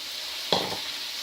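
Noodles hitting a hot pan in a sweet chilli chicken stir fry give one sudden sizzle that fades quickly into a steady, quiet hiss.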